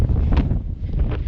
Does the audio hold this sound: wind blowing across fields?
yes